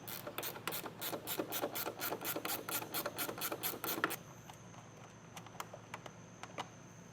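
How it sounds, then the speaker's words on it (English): Ratcheting wrench loosening 10mm nuts on a 2022 BMW, a close run of quick, evenly spaced metallic clicks for about four seconds, then a few scattered ticks and taps. "We're going to go ahead and get those out using a ratcheting wrench."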